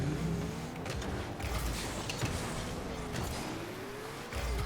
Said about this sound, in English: there's a loud car going by